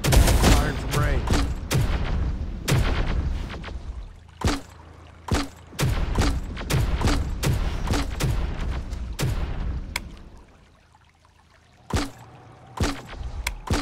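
Terminator: Dark Fate – Defiance battlefield gunfire pops in sharp, spaced shots and short volleys, loud and close, briefly falling quiet before more single shots ring out, with radio-style voices talking between them.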